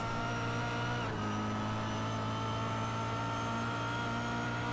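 Touring car engines in a racing video game drone at high revs down the back straight at Monza, a steady, dense roar with a brief dip in pitch like a gear shift, all at low volume.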